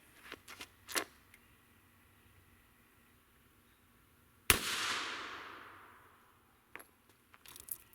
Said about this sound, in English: Let's give the 38 Special one more shot. Shot number 2, 38 Special.